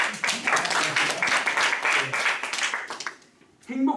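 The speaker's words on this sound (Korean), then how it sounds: "그럼 박수도 막 주시더라고요." A lecture audience at a maritime university claps warmly during a happiness-counselor talk. The applause is brisk and fairly close for about three seconds, then fades out before a voice resumes.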